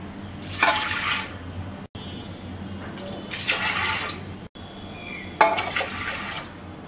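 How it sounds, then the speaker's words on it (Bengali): Water pours into a pressure cooker holding green moong dal for a bhuna, in three short gushing bursts separated by brief cut-off gaps, close and moderately loud with no talking. "দিয়ে দিচ্ছি 3 কাপ পানি।"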